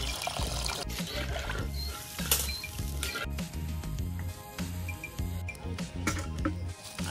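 Water is poured into a pot of Hyderabadi fish biryani while cooking outdoors in a village, heard as a quiet, steady trickle and splash.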